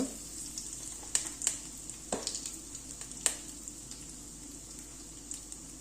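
Curry leaves and asafoetida dropped into hot oil give a steady, close hiss of sizzling, broken by a few sharp pops and spits, with no voices.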